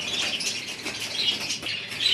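Budgerigars chirp in high, thin twitters while being caught by hand, a busy overlapping chatter with faint wing flutters throughout and no talking.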